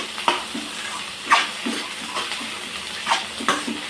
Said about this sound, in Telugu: మంచిగా వేగనియాలి అన్నాన్ని అప్పుడు టేస్ట్ వస్తుంది